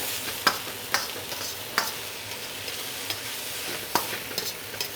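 Garlic and spinach sizzling in a stir-fry pan, a steady hiss of frying broken by sharp scraping clacks of stirring at irregular intervals, close and with no talk.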